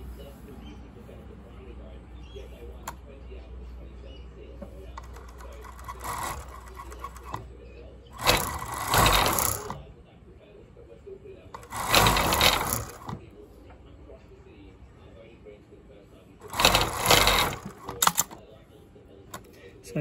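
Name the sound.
cover stitch sewing machine hemming fabric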